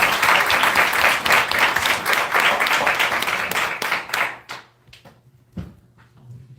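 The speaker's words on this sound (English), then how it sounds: "please give a round of applause to Ms." Audience at a university event bursts into lively applause for a speaker, dense clapping that holds strong for about four seconds before thinning into a few scattered late claps and quiet.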